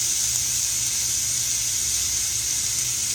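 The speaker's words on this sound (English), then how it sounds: "We're going to let that saute just a minute" Yellow pepper sautés in a pan with a steady, bright sizzling hiss that holds evenly throughout, close and fairly loud, with no talking.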